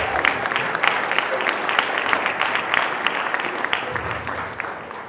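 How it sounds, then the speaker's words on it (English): An audience at a Martin Luther King Day celebration applauds, a dense, sustained round of clapping from many people with some crowd noise mixed in, steady and moderately loud. "Give yourself a round of applause for being here"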